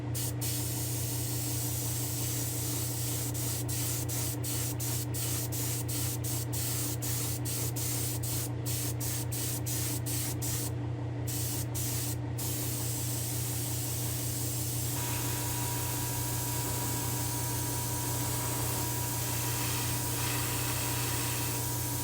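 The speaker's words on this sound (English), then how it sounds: "I'm going to go ahead and spray the rest of our car" A paint spray gun hisses continuously and close while spraying a custom car bright orange, with a steady loud airy rush and some faint ticking clicks early on.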